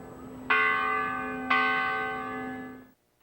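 Two strikes of a used fire hall tower bell, once from a brewery, ring out one second apart, each clear metallic tone with rich overtones that hangs and slowly decays before cutting off.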